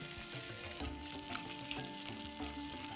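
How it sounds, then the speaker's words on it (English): Cabbage seasoned with salt and pepper sears in olive oil, giving a steady, close sizzle with faint crackles and a few stirring clinks. "I love that sizzle, it's really, really nice."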